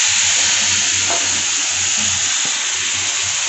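Spice paste with dried red chilli and whole cumin seeds sizzling in hot oil, a steady dense hiss that holds evenly throughout with no voices.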